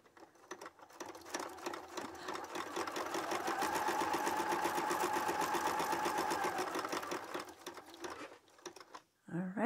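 A sewing machine runs steadily for several seconds while chain piecing quilt seams, a close rapid mechanical chatter that swells and fades, with faint handling noises at the end.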